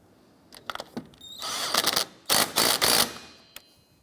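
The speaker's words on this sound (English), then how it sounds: "Go ahead and tighten that down." Wiper arm nut being tightened onto its stud on a 2006-2013 Chevrolet Impala, heard as sharp ratcheting clicks and bursts of mechanical whirring from a hand tool, close and without speech.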